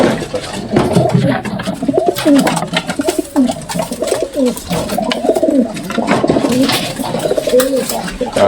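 Pigeons coo repeatedly in a loft, with overlapping low throaty calls rising and falling throughout, close and steady, with some wing and movement noises around them.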